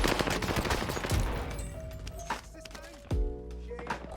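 Rapid bursts of automatic gunfire from the Warzone video game, with clattering shots, movement noise and game effects packed densely together, followed by tonal sweeps and chimes as the fight ends.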